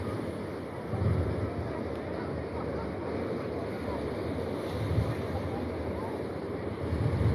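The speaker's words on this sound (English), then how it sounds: "there's a breeze, and I'm by the ocean" Steady ocean breeze and wind rumble at La Jolla Cove, California, with a constant wash of surf underneath and a few louder gusts buffeting the microphone.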